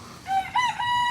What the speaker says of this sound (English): I'm gonna look at these chickens